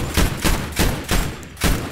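Heavy bursts of gunfire in Battlefield V, aimed at a bomber aircraft. About five rapid booming volleys sound close and loud in an uneven rhythm, with no talking.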